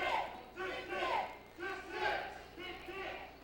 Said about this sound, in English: Crowd firmly behind Ren with the cries of tick,